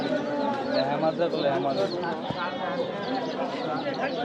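Pigeons coo and rustle continuously at the Jinjira pigeon market in Bangladesh, close by and under ongoing talk among buyers and sellers.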